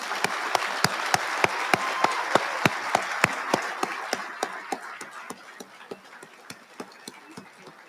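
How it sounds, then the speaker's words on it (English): Steady applause from an awards dinner audience for award recipients, a crowd of hands clapping in a fairly regular rhythm with sharp repeated claps standing out, slowly thinning and fading toward the end. "please join me in a round of applause for the Intelligence Award recipients"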